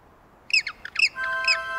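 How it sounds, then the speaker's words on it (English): A cartoon penguin family squawks in a few short, bright, close honking calls in quick succession, followed by a steady tonal hum underneath, with no speech. "Could that be the sound of Mr. Penguin's family?"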